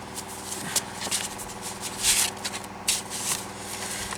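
Cards and envelopes are handled and shuffled on a table during a cleanup: soft papery rustles and light slaps come in a loose irregular run, close by, with a few sharper flicks and no voices.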